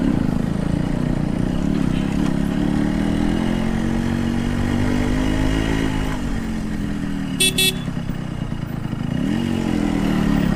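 A Yamaha RX 115 two-stroke motorcycle drones steadily on a road, its engine note rising and falling with throttle changes, with a brief horn beep partway through and no talk.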